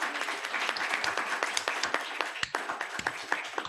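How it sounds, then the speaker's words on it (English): A room full of people applauds a speaker named Sandy at a meeting, with steady dense clapping and a few sharper individual claps standing out throughout. "Another round of applause for Sandy."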